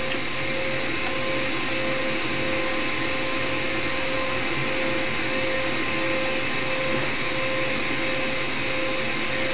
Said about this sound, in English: So that while the APU is starting up